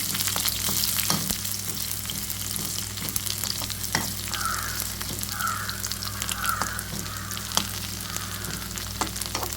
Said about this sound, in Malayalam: പത്ത് ചെറിയ പാവയ്ക്കയാണ് അതുകൂടെ ഇതിലൂടെ ഇട്ട് നമ്മളൊന്ന് കടുവറുത്ത്